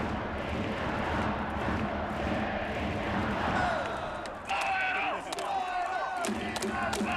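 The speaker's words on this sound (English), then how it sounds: "I hope that you at home can hear what we hear in right field. The Inaba cheer" Japanese baseball fans in the right-field stands roar a rhythmic Inaba cheer chant during a China versus Japan game, a dense, loud crowd wall with drumming-like pulses, and a commentator's voice cuts in over it toward the end.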